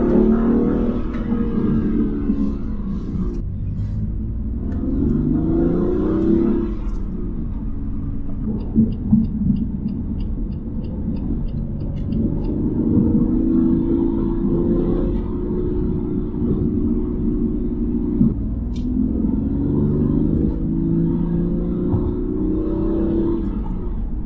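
A BMW M2 Competition accelerates hard, its engine rumbling and revving loudly inside the car with steady road roar and a few gear-change dips throughout.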